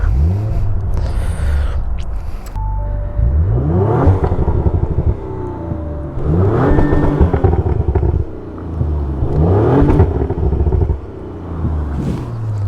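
Audi RS5 engine revved repeatedly to the rev limiter, loud close-up bursts that climb sharply, bounce off the limiter with a stuttering buzz and drop back, about four rev cycles with brief idle gaps between.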